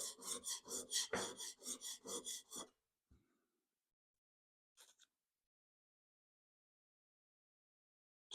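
A plane iron from a Taylor Toolworks No. 6 fore plane is honed on a sharpening stone in a quick series of rhythmic rasping strokes, about a dozen back-and-forth scrapes, then near silence with a couple of faint taps.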